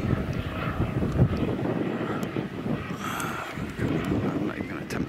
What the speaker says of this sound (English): here's a police helicopter